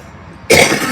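A single sudden, loud cough bursts close to the microphone after a quiet stretch, harsh and breathy.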